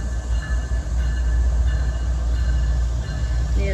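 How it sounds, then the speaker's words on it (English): A CSX mixed manifest freight train rumbles past nearby, its loud, steady low roar of wheels and cars carrying on throughout with faint rail squeal on top. "He is passing CSX 926."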